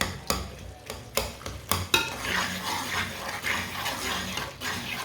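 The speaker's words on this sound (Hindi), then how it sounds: "2-3 मिनट के लिए इसी तरह पका लेंगे चम्मच चलाते हुए" Spoon clanking against a cooking pot while stirring and mashing turnips, several sharp metallic knocks at the start, then a softer continuous scraping and squelching, close and clear.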